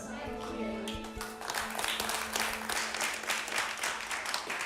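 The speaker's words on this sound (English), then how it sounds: "We just heard the clapping, so they'll be out any second." Audience applause rings out after a historical lecture at a French chateau, a steady wash of many hands clapping heard from a distance, with some talk near the start.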